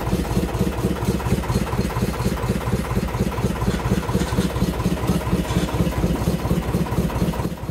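A fishing trawler's engine running at sea in the Bay of Bengal, a loud, steady rhythmic thumping chug close by with no other sounds.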